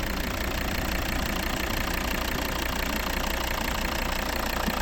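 The 2.4-litre D5 diesel engine of a 2013 Volvo V60 R-Design AWD automatic idles steadily and evenly, close up, with a constant low knocking hum and no talking.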